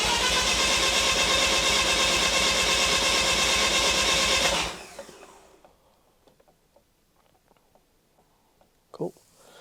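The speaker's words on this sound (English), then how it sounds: "let's do this cold crank compression test." A Mazda RX-7 rotary engine cranks cold on the starter during a compression test, giving a loud, steady, rapid pulsing drone for about four and a half seconds. It then cuts off into near silence with a few faint clicks.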